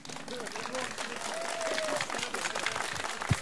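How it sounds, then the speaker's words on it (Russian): Applause from guests at a Dagestani Avar wedding, a thin, fairly quiet patter of clapping running steadily under an announcer's voice and background music. "Но аплодирует что-то мало и тихо."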